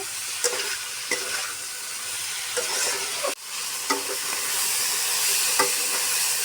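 Kochur loti and prawns frying in a pan, with a steady hiss and sizzle throughout and a few soft spatula scrapes as the mixture is stirred; no voices.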